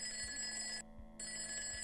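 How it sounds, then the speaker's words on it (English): A steady high-pitched electronic ringing in the Project Zomboid video game, like an alarm or telephone, with a brief pause partway through, faint and alone. "Is that an alarm or a phone?"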